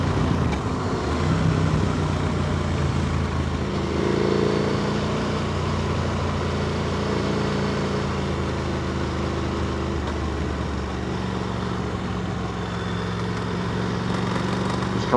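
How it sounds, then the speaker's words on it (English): Motorcycle engine running smoothly at low throttle while riding the open roads of South Ayrshire, Scotland, a steady continuous drone with some wind rush, even in level throughout and with no talking. "the bike's just on the bottom of the throttle, it's nice and smooth"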